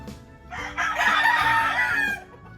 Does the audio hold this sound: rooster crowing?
yes